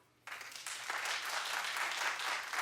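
A studio audience breaks into clapping after a quiet moment, the dense applause starting abruptly and holding at a moderate, fairly distant level for a couple of seconds.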